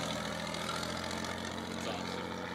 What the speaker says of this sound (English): Does that motor sound nice?